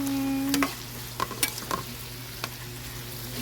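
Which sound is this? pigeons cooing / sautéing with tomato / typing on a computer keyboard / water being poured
sautéing with tomato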